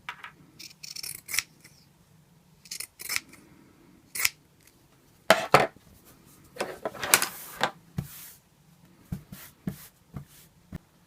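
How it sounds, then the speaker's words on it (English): Pinking shears cut around the edge of a sewn fabric sample, producing close, crisp crunching snips in short irregular bursts with quiet gaps between. "I just need to go around the edge with the pinking shears to finish off the sample"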